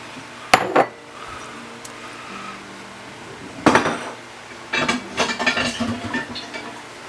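Shredded chicken and green onion tops go into a pot of chicken tortilla soup with a few sharp metallic clanks of a utensil against the pot, spaced apart, then a cluster of lighter clinks and scrapes in a quiet kitchen.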